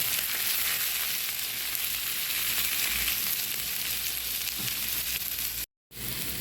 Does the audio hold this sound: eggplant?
yes